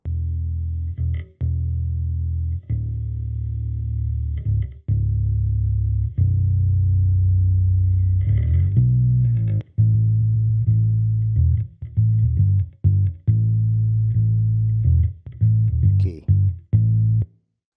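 Bass guitar run through an Amplitude amp simulator preset, playing a solo line of deep, chorused, slightly distorted notes with short gaps between phrases and busier picking toward the end, with no talking.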